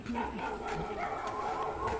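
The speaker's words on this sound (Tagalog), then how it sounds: "Yan ang magandang tahol." A dog barks and yips repeatedly at a distance, mixed with a voice talking over a steady background murmur.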